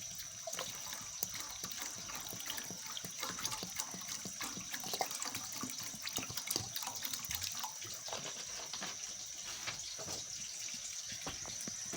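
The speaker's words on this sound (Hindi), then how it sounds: "अब हम इसके अंदर पानी डालेंगे।" Water poured into a pot of Lahori dhaba-style chicken chickpea curry, a steady continuous splashing and trickling stream running for the whole stretch, close by and with no talking.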